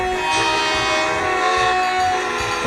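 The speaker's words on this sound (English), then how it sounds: "The Flying Scotsman pulled into the platform right in front of Gordon." The Flying Scotsman steam locomotive pulls into a station platform, a loud, close, sustained whistle over heavy rumbling and clanking of the train.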